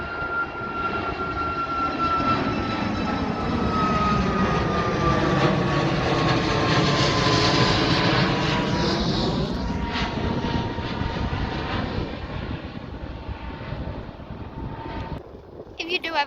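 A Ryanair airliner at Birmingham Airport passes with a loud, sustained jet engine roar and a falling whine, close by and fading toward the end, with wind buffeting the microphone.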